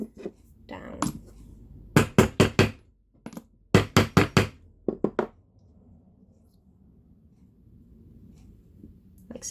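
Metal struck with punches in a doming block, giving loud close hammer taps in quick clusters of three to five, separated by pauses and followed by quiet room tone.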